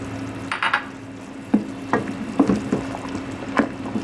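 Kadhi, a yogurt-based curry, simmers in a pot with slit green chillies added, giving soft bubbling and liquid stirring with a few sharp clinks of a spoon against the pot, close and without talk.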